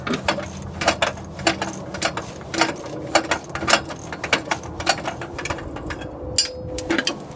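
A wrench ratchets on the exhaust bolts of a VW Beetle with a 2054cc engine, a run of quick sharp clicks and metallic taps in uneven bursts, close and fairly loud.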